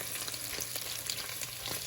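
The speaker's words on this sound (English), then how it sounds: "I just love the smell of cooking bacon." Bacon sizzles steadily in a pan while potato soup is being made, a close, continuous crackle and hiss with scattered pops and no voices.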